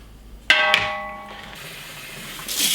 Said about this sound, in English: I've managed to find the old garden sprayer